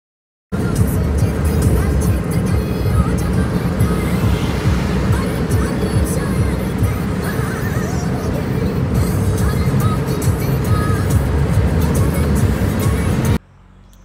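A car driven at about 80 km/h on the road, its steady broadband road and engine roar continuous and close, with wind noise, cutting off abruptly near the end.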